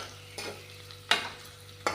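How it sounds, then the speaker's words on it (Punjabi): Bitter gourds fry in mustard oil in a kadai with a low, constant sizzle close by, broken by three distinct scraping stirs of a ladle spaced across the short stretch. "ਕਰੇਲੇ ਆਪਾਂ ਨੇ ਪਾ ਲਏ ਕੜਾਹੀ ਦੇ ਵਿੱਚ"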